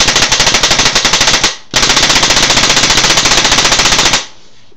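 An Autococker paintball marker fires in fast, evenly spaced bursts of rapid shots, loud and close, with a brief gap between two strings of fire.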